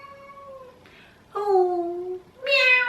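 Indoor house cat giving several plaintive meows in a row: a short one, then two longer, louder drawn-out cries, close by with no talk.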